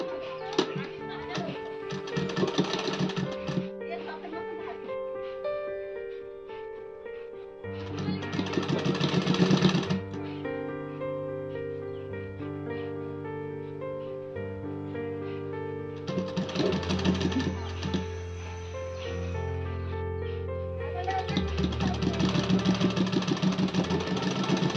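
A home sewing machine stitches a baby frock made from scrap fabric pieces, running in several short bursts of a few seconds each, close and fairly loud over a steady tonal background, with someone talking between runs.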